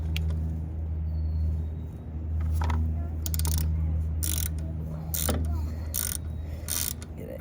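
A ratchet tightens the oil drain plug during an oil change on a 2022 Harley-Davidson Low Rider ST. Close, sharp bursts of ratcheting clicks repeat in short strokes over a steady low hum.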